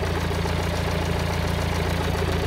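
Ford Transit Mk7 van engine idling after running for several minutes, a steady close rumble with an even, slightly knocking pulse and no change in pitch.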